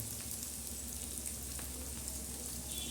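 Egg bhurji with onion, tomato and green chillies sautéing in a pan gives a steady, close sizzle and frying crackle, with faint occasional stirring ticks underneath.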